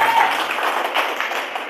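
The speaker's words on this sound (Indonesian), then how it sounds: "Tepuk tangannya mana?" Church congregation applauding, a steady dense wash of clapping held at an even level for the whole short stretch, with no voices standing out.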